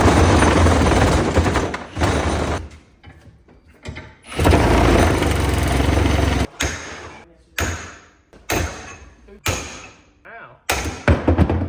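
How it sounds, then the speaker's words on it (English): Sawzall reciprocating saw fitted with an aggressive Diablo blade slices through a metal bushing sleeve shell, loud harsh buzzing bursts that start and stop in short stretches, with brief clanks and knocks between cuts. "use a Sawzall with a pretty gnarly blade"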